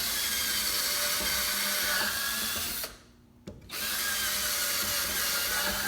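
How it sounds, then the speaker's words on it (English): A power drill bores shank holes in a wood board for homemade stilts, a loud steady whine that cuts out briefly partway through and then resumes. "And then I'm going to drill 4 shank holes within this rectangle that I traced."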